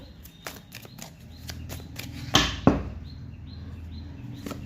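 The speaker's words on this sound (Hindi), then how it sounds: "यहाँ से मैं 5 कार्ड लूँगी गाइज" Tarot cards being drawn one by one from a deck, with soft ticks and slides of card against card building to two louder, quick swishes, close by and without speech.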